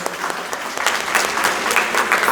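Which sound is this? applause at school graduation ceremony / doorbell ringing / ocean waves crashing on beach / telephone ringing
applause at school graduation ceremony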